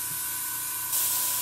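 A spray gun lays a light coat of paint thinned about 50 percent, run at around 17 PSI; a steady close hiss that gets louder and brighter near the end, with no talking.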